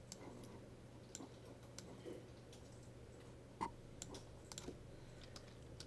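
Computer keyboard typing in a classroom setting, soft scattered key clicks at an uneven pace over a steady low electrical hum, faint and fairly close.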